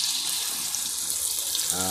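Liquid being poured into a pan while cooking sardines in soy sauce, a soft continuous trickle and splash running steadily throughout, fairly quiet and close.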